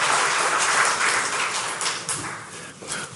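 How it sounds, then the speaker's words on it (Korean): Congregation applauds during a church anniversary and pastor installation service, a dense, fairly loud wash of clapping that holds steady and tapers slightly toward the end. "다시 한번 큰 격려의 박수 부탁드립니다"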